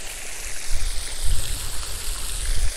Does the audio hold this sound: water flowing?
yes